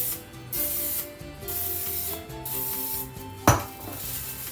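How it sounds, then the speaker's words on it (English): Non-stick cooking spray hisses into a crock pot in one short, sharp burst, standing out near the end over steady background music. "I'm going to spray the inside of my crock pot with this non-stick cooking spray."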